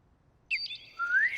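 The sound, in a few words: people imitating bird calls for a radio play background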